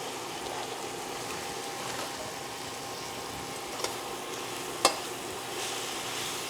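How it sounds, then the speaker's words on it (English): Spinach sautés in a pan with a steady, even sizzling hiss, broken by a couple of brief utensil clicks near the end. "I'm gonna give that a nice saute."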